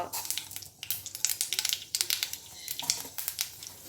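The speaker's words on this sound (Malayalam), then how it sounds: "ഒരു പാത്രത്തിൽ എണ്ണ നന്നായിട്ട് ചൂടാക്കുക. അതിലേക്ക് കടുക്, ഉലുവ," Mustard and fenugreek seeds dropped into hot oil while tempering for brinjal podi give a busy, steady crackle of sharp pops and spits, close and fairly loud, with no talking.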